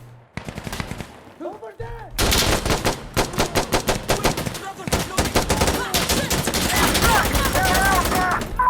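Rapid automatic gunfire in Insurgency: Sandstorm, loud close bursts of shots in quick rhythm with brief pauses, mixed with scattered distant shots and a voice speaking under the firing.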